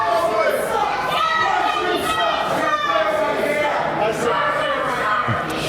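A wrestling arena crowd jeers and murmurs in a steady, loud roar, with a commentator speaking over the noise throughout.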